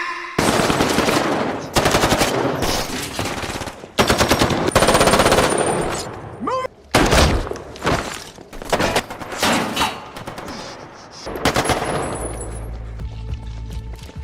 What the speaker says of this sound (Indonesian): Baku tembak antara kedua kubu sangat panas